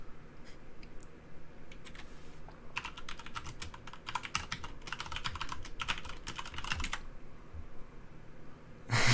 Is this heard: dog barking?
no